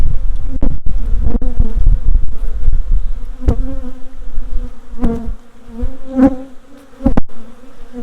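Honey bees buzz around a large hive in an apiary, a loud close droning hum with individual bees zipping past the listener in sharp passes.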